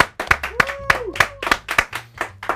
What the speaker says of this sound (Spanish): Ahora pedimos un aplauso para Davo Zenaicer